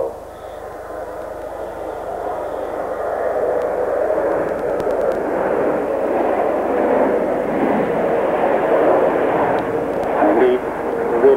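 Display team aircraft pulling up for a shuttle roll at the 1988 Farnborough Airshow, a steady broad engine roar that swells slightly and holds throughout, heard at a distance with a commentator's voice over it.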